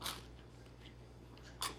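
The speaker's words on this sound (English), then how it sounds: "If you can hear it, there's a crunch on every bite, especially that delicious crust with all that seasoning." Bites into a crunchy, seasoned pizza crust give two sharp close crunches, one at the start and another near the end, separated by quiet chewing.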